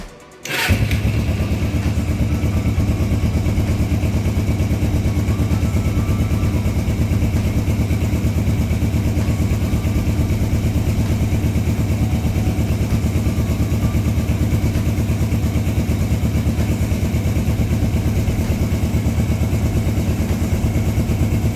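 A 1983 Suzuki GS450GA motorcycle, fresh from stator, rectifier and battery replacement, starts with a brief crank and catches, then settles into a steady, loud idle close by for about twenty seconds, with no talking.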